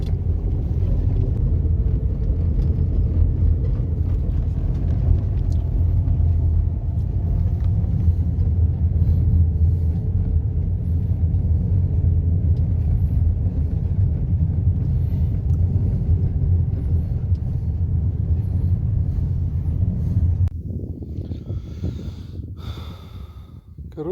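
A car driving along a rural road past dry farm fields: a steady, loud engine drone and tyre rumble carry on without a break for about twenty seconds, then drop to a quieter idle with some rustling near the end.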